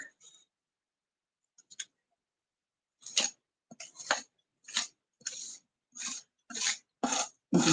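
A scraper spreading paste across a craft stencil, heard as a run of short scraping strokes that start sparse and then quicken into a regular rhythm, close and crisp in an otherwise quiet space.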